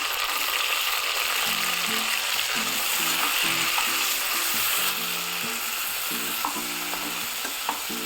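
Tomatoes roasting with onions in a pan make a steady, close sizzle across the whole stretch, with a faint buzzing hum underneath and a few soft clicks near the end; no one speaks.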